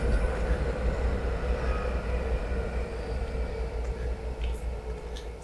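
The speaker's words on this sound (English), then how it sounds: "we might have a train coming right now" High-speed train passing near a small water park in ZhaoQing, China, heard as a steady low rumble and smooth hiss that holds evenly throughout, fairly distant and quiet with faint background sounds.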